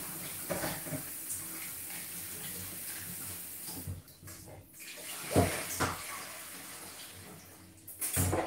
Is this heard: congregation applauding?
no